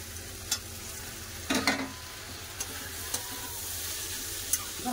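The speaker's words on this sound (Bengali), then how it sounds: "ভালো করে সব আরেকবার মশলার সাথে কষে নেবো।" Potatoes, tomato and peas are stir-fried with cumin powder and salt in a pan, giving a steady low sizzle broken by a few sharp spatula clinks and one longer scraping stir, without voices.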